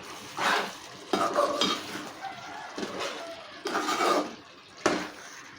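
Chicken curry with gongura being stirred in a pan as coriander powder and garam masala are mixed in, giving several bursts of scraping and soft sizzling at close range, with no talk over them.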